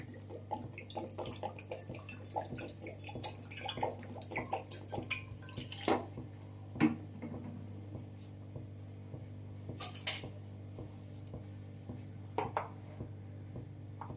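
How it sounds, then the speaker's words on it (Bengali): Water splashes and trickles into a pan of spinach for boiling, with scattered drips and small clatters over a steady low hum in a quiet kitchen. "শাকটা সেদ্ধ করার জন্য আমি এখানে পরিমাণ মতো পানি দিয়ে দিচ্ছি"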